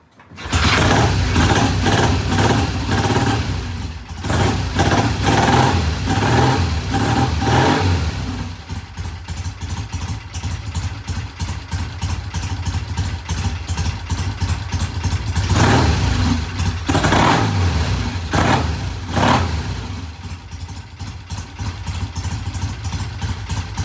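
A vintage British motorcycle engine runs on a little throttle, loud and close, with a steady rough idle and several revving surges before settling back; no talk is heard over it.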